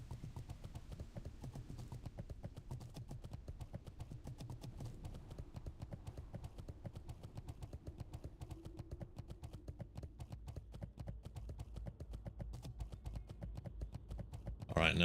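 Rhythmic horse hooves clip-clopping steadily while riding in World of Warcraft: The Burning Crusade, a continuous close trot lasting throughout.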